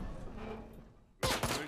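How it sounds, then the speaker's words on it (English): Gunfire in the motorcycle video game Ride to Hell: Retribution erupts suddenly as a loud, rapid burst of shots after a stretch of muffled game ambience. "Stop shooting me!"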